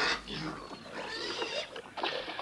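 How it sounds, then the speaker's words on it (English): A pig gives a few short, close grunts and snorts, fairly quiet, with brief pauses between them and no talking. "Ah, the prodigal pig returns."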